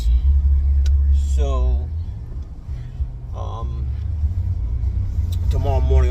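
A Dodge Ram pickup truck out salting roads during a snowstorm rumbles steadily while driving, a loud low engine drone running throughout beneath someone talking over it.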